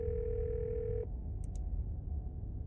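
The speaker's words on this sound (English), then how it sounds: "You once again hear something drop violently on the other end. Then a dial tone." A steady telephone dial tone from the Scarlet Hollow video game hums for about a second, then cuts off abruptly, leaving a low background rumble with two faint brief clicks.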